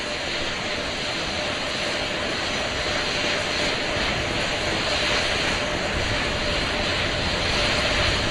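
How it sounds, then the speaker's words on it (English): Four RS-25 rocket engines, three Shuttle heritage units and one built from shuttle parts, roar as a loud, steady, unbroken wall of broadband noise during a thrust vector control gimbaling test. "we're going to get that thrust vector control actuator test. This is a gimbaling of the engines."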